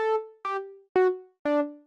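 Four plucked notes from a Serum synth patch with a low-pass filter envelope, each bright at the attack and quickly mellowing as it decays, spaced evenly in a simple melodic sequence with no voices.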